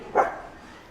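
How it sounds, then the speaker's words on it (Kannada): A single short dog bark, muffled and moderately close, followed by quiet room tone. "ನೋಡು ಬೊಗಳ್ತಾನೆ ಅವನು, ಬೈದ್ರೆ."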